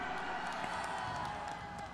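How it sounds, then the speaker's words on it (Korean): Crowd applause with some cheering at a Gwanghwamun street rally in Seoul, a steady dense wash of clapping and voices from a large outdoor gathering, continuous throughout. "큰 박수 부탁합니다."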